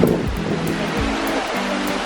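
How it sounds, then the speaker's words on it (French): Waterfall near Ella, Sri Lanka, a steady broad rush of falling water with faint distant voices mixed in, constant and close throughout. "c'est une cascade qui est vraiment pas loin de Ella"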